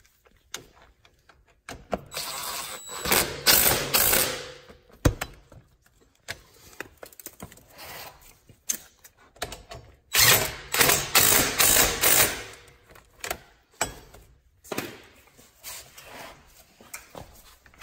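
Ratchet tightening the front axle nut on a Yamaha Grizzly ATV during an axle bearing replacement, heard as bursts of rapid clicking in two main runs with quieter mechanical handling and pauses between them.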